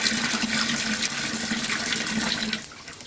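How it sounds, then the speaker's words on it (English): Water gushes from a household tap after the main tank outlet is opened, a loud steady rushing flow that eases off near the end. "Now I will open the outlet of the main tank."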